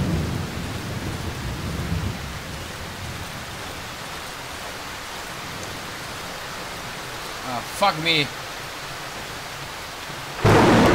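Stormy weather in the horror game Darkwood: a steady wash of rain and low rumbling fills the scene, with a sharp crackle of lightning near the end. Someone speaks briefly over it.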